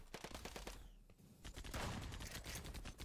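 Rapid SMG fire in the shooter game EV.io, dense automatic bursts of quick shots with a brief lull, then another sustained stream, heard fairly close in a busy game mix.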